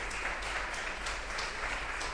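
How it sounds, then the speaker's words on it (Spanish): Applause from an audience at a Puerto Rico forum on climate change, greeting the Ayuda Legal Puerto Rico team: a steady, even wash of clapping held at a moderate level across two seconds, with no talk over it. "un aplauso a Ayuda Legal"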